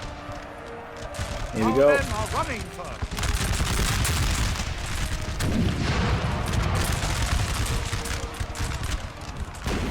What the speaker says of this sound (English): They've got to be almost ready to fire.